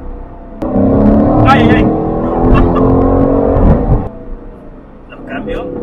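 An Aston Martin's engine revs loudly inside a tunnel, a dense roar that swells and holds for a few seconds before easing off, with excited exclamations from an occupant over it.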